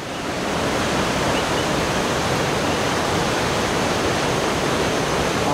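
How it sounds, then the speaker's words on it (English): A swollen river in Hawaii rushing after torrential hurricane rain near a landslide, a loud, steady, dense roar of churning water filling the whole clip without pause, no voices. "And the river is just going mad."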